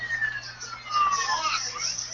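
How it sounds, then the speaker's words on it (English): Ambulance siren from a cell phone game playing nearby, a wavering electronic wail that sweeps up and down repeatedly over steady low background hum, moderately loud with no talk over it. "That is an ambulance, but those are my children playing cell phone games."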